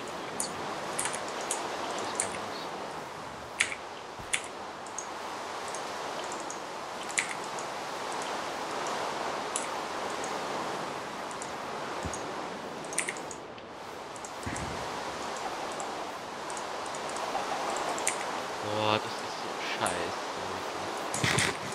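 Minecraft rain falls in the game world, producing a steady, hissing wash of noise that runs throughout, with scattered faint ticks and soft murmuring voices beneath it.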